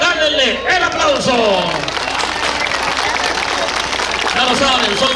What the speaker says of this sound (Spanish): Rancho en Desvelo, regálenle el aplauso.